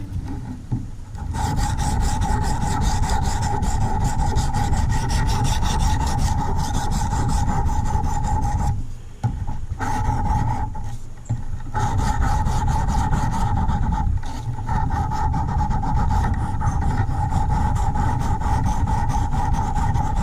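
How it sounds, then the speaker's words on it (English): A putty knife scrapes back and forth on the finer grit side of a sharpening stone, steady rasping strokes, loud and close, with a few brief pauses between runs. "I will use the other side that's a finer grit. And we'll sharpen that up even more."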